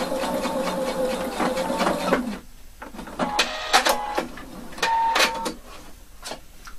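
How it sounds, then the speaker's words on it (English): A sewing machine top-stitches a jeans fly with a rapid mechanical whir in short runs. The runs stop and restart between brief pauses and small handling clicks, all close up. "Now only sew to where it open up."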